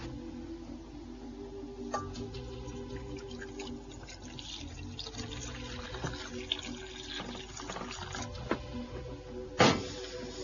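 Water trickles and splashes faintly as it is poured into a cooking pot outdoors, with soft clinks and a sharper splash near the end over a quiet open-air background.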